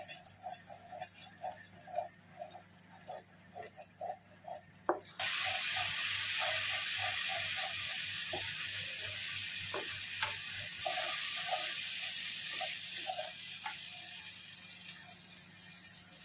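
Spices roasting in a pan for a soybean, potato and chickpea mixed sabzi: light rhythmic scraping and clicks at first, then a louder steady sizzle that swells partway through. No one speaks.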